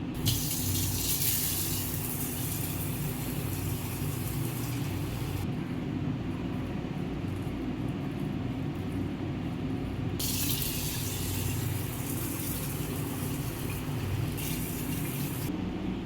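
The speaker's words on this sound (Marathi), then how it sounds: "तांदूळ आणि बाकीच्या ज्या डाळी धुवायच्या होत्या त्या मी एकत्र करून घेतलेल्या आहेत आणि आता आपण ह्या धुवून घेऊया" Running water splashes steadily into a vessel while rice and lentils are swished and rinsed, a continuous close wash with shifting intensity.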